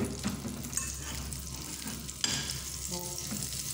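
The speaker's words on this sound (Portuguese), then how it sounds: "Agora eu venho aqui com a carne de hambúrguer." Hamburger meat fries in melted margarine in a pan, a close, steady sizzle and crackle with a few sharper spatter pops, heard alone with no talking.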